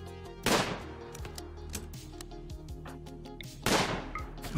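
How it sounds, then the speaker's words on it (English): Gunfire aimed at a turret in the RimWorld video game: two sharp, loud shots several seconds apart, with lighter clicks and thuds in between. "I'll just shoot the damn turret"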